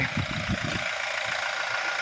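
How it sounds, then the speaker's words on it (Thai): A Toyota Fortuner 2.8V 4WD TRD (2019) idles low and steady close by, with a few uneven throbs at the start before settling into a smooth hum. "ฟังเสียงเครื่องยนต์พร้อมกันฮะ"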